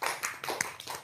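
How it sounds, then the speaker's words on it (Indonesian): A handful of people in an Indonesian talk audience clap faintly. The claps are scattered and uneven, a few distinct smacks at a distance, with no talking over them. "Tepuk tangan dong."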